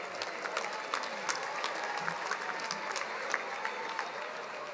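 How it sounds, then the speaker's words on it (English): A large audience at a university commencement ceremony claps for graduating master's students, steady distant applause with scattered sharper claps standing out. "Let's give a round of applause to the Master of Global Public Policy graduates."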